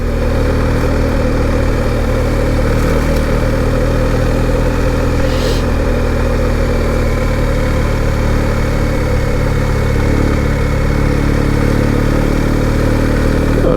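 A motorcycle engine drones loud and steady while riding down a road beneath trees, a constant close rumble with a faint rattle and no speech.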